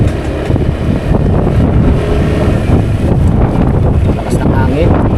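Strong wind roars loudly and continuously across the microphone on a boat in open water, with people talking over it.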